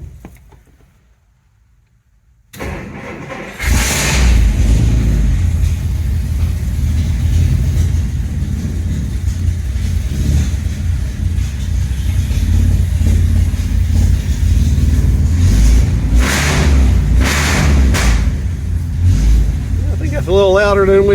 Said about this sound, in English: how our fish carburetor and stainless dual exhaust is going to sound on our 48 Dodge with the shotgun exhaust